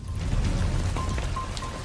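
Steady rain falling in Vancouver, a dense, continuous hiss of drops striking surfaces, fairly loud and even throughout with no voices.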